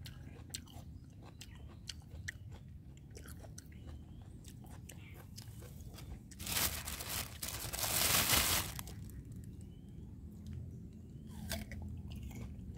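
Close, quiet chewing of a crisp, sweet, overripe red-fleshed guava, with steady soft crunches and one louder burst of crunching midway, alone and without talk.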